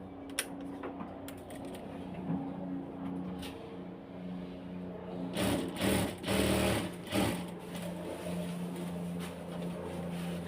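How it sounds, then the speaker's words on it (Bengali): A sewing machine stitches a pajama pocket, starting with a quiet steady hum and light ticking, then breaking into louder bursts of rapid stitching with short pauses before settling back to a low whir. "এখন এটাকে আমি মেশিনে দিয়ে দিচ্ছি, সেলাই করে আটকিয়ে নিব।"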